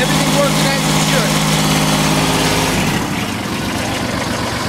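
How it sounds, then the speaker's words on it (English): A 2006 Kawasaki Mule 3010 utility vehicle with a 25 horsepower Kubota engine idles steadily and loudly up close, a smooth even rumble with no knocking, easing slightly quieter near the end. "No problem with the engine. The engine is idling fine, no knocks, no pings."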